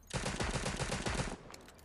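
The Crusader Advanced Rifle in Cyber Hunter fires a sustained burst of rapid, evenly spaced shots, loud and close, which stops abruptly, leaving a few faint clicks.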